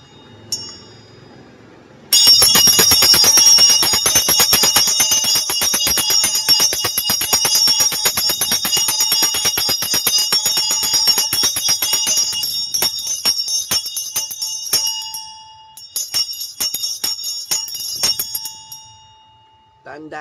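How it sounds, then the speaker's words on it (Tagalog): Healing bell rung continuously in rapid, shimmering strokes, bright and loud, with a voice speaking beneath it. The ringing thins out into scattered strikes before fading near the end. "ako ang original na merong healing bell"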